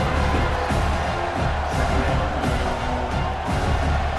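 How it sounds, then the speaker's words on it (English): Loud, steady roar of a stadium crowd in College Football 26, Oklahoma at Tennessee, swelling during a red zone defensive stand, a dense wash of cheering that fills the whole stretch. "This crowd is trying to inspire this defense to make a big red zone stop."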